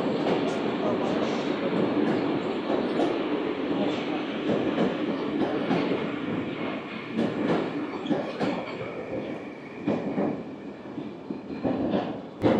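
Moscow metro subway train running at about 69 km/h, a steady close rumble with rhythmic clatter and occasional brief squeals, with people talking over it throughout.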